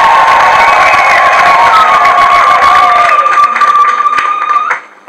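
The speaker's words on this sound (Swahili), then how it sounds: "Hebu mjipigie makofi." Loud applause and cheering from a women's church gathering, dense and continuous with a sustained bright tone over the crowd, fading out near the end.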